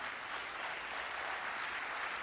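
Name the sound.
applause in church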